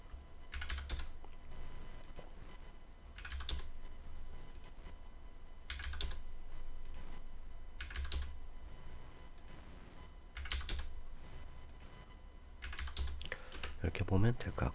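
Computer keyboard typing and clicking while building a SketchUp model of a 3D-printable part, in periodic bursts of keystrokes separated by quieter stretches, close and moderately loud over a low steady hum.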